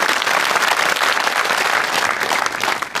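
A studio audience at a comedy club show breaks into loud, dense applause that holds steady throughout, a close wall of clapping with no speech over it.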